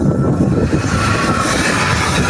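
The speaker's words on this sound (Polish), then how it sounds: "No jeszcze pociąg jedzie." A train rolls past close by with a loud, continuous rumbling clatter that stays dense and heavy for the whole short stretch.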